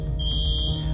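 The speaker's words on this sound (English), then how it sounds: "Make sure smoke detection and alarm systems are installed and operating properly to provide early warning." A smoke alarm sounds with a steady, loud, piercing high electronic tone. The tone runs alone and continuously over a low background hum.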